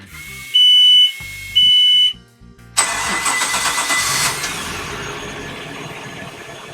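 A Volvo Penta 5.7 GIE boat engine starts: two electronic beeps, a short pause, then cranking that catches into a steady, loud running rumble nearby.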